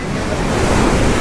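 Sea waves wash in at Ramayyapatnam beach, a loud, broad rushing surf mixed with strong wind buffeting the microphone, steady throughout.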